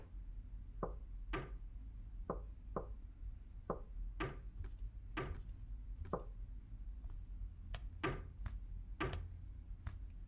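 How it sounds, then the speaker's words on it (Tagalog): Sharp knocks on a door, struck in uneven clusters of one to three raps across the whole span, fairly close and distinct over a low steady background hum, with no talking. "Saan ang gagaling katok na yun?"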